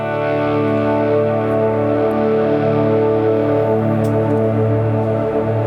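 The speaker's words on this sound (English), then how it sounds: "it's just really big sort of ambient sound" Electric guitar swelled in with a volume pedal through a Line 6 Helix, drenched in heavy delay and shimmer reverb, forms a huge sustained ambient wash of layered tones that keeps ringing steadily with no talking.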